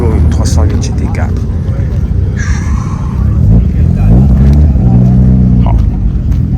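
A Porsche 924 Turbo rally car at a historic Tour de Corse stage roars past near and loud, with an engine note that rises and falls as it goes by while people talk over it.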